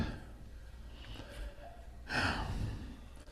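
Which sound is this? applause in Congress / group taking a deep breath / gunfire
group taking a deep breath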